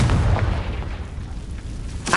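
A Confringo fire spell bursting in Hogwarts Legacy: a deep, booming explosion with rumbling low end, fading into crackle, then a sharp burst right at the end.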